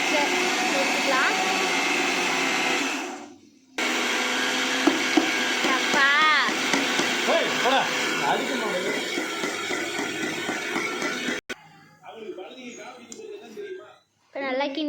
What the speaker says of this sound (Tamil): இதை மிக்சியில் வந்து நல்லா தூளாக அரைச்சி எடுத்துக்கலாம்.